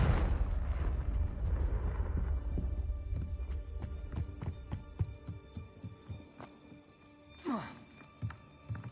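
A Confringo fire spell explodes in the Hogwarts Legacy game: a loud blast at the start trails into a run of crackling, thudding impacts, then a sharp whooshing burst near the end.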